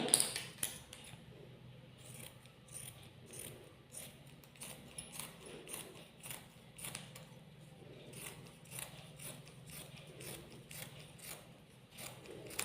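Scissors snip repeatedly through nighty fabric in a steady, rhythmic series of faint close cuts against a quiet room background.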